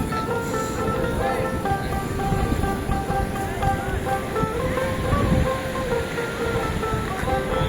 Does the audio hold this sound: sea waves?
yes